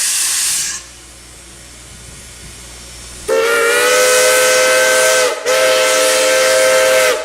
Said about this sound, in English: the engineer blows the whistle twice to indicate the beginning of the return trip to Palestine.